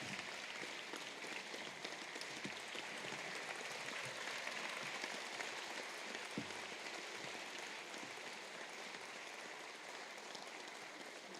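Sustained applause from a seated audience at the official opening ceremony of an annual general meeting, a steady dense patter of many hands clapping at even loudness throughout, with no voices over it.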